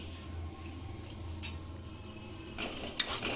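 A spoon stirs chicken sauce with tomato ketchup in a pan, a few quiet scraping clinks against the metal over a soft low simmer, no speech.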